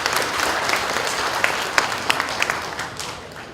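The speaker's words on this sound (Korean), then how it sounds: "큰 박수 부탁드리겠습니다." An audience applauds at a ceremony, a dense, steady wash of many hands clapping at close range that eases slightly toward the end.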